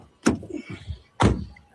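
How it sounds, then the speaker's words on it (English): Doors of a 2015 Nissan NV200 van lock through keyless entry while the engine runs. Two solid, close clunks come about a second apart, with lighter mechanical rattles between them. "All the doors are locked."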